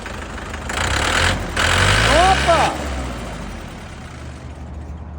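Restored tractor engine running steadily at close range, a low continuous rumble that swells briefly in the middle, while a man exclaims over it.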